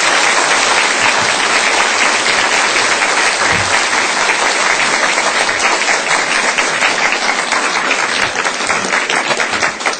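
Loud, warm applause from a church congregation at a revival festival service, dense clapping sustained steadily throughout without pause.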